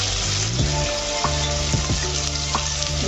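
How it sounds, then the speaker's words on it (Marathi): Onion, carrot, cabbage and green chilli stir-fried on high heat in a pan: a loud, continuous close sizzle with a few scraping stirs and clinks of the spoon, no talking. "आपण 3 ते 4 मिनिटं फास्ट गॅसवरती चांगलं परतून घेणार आहोत ह्या भाज्या."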